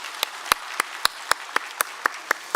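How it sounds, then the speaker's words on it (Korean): Claps ring out in a Korean church's Sunday worship service as the congregation welcomes new members: about eleven crisp, evenly spaced, close hand claps in a steady rhythm over a low room hush. "우리 박수로 환영하겠습니다."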